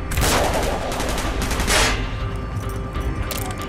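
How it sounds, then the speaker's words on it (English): Dense gunfire in Call of Duty: Black Ops, a loud close volley of rapid automatic shots with booming bursts, thinning toward the end. "Gunfire's drawing attention."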